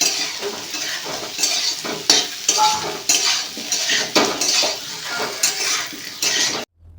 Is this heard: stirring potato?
yes